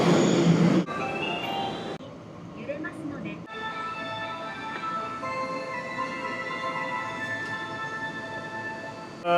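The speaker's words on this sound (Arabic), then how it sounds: "والحين رايحين لمحطة القطار" A subway train rumbles steadily inside a station in Japan, with a constant mechanical drone and tonal hum; there is no talking.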